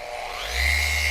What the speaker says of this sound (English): And you can tell that the buffer has got more RPMs in it than that drill does.